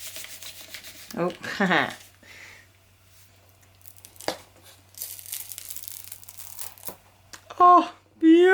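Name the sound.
folding inked paper for a textured background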